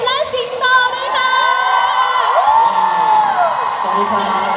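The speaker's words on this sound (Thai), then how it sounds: "ขอเสียงปรบมือให้กับคริสและสิงโตด้วยค่ะ" A crowd at a live promotional event cheers, whoops and shrieks loudly for two performers on stage, with high excited voices and some clapping blending into a sustained roar.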